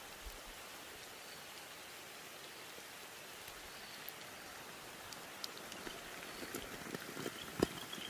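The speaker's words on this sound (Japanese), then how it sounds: "雨が降ってきた。" Rain comes down steadily in the outdoors, a dense even hiss of drops that grows slightly busier toward the end, with a few sharper splats on a surface nearby.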